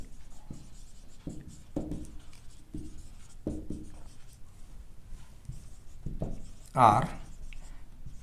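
Chalk or pen writing out equations of a line during a solid geometry lecture, a series of short scratchy strokes at an irregular rhythm, heard close under intermittent speech from the lecturer.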